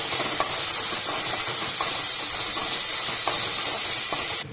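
Herbs sizzle in a hot pan while a sour fish curry cooks, a steady loud steamy hiss with faint stirring scrapes and no talk, cutting off near the end.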